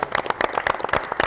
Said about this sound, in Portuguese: Só temos que terminar com palmas